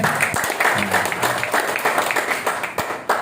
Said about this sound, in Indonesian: tepuk tangan dari PTBS